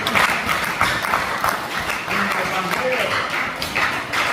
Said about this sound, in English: I think I want us to clap for the Oba community in this respect.